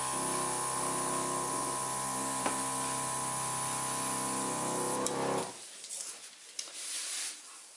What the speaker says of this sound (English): Next I'm going to get an airbrush that has a better compressor that's not so loud.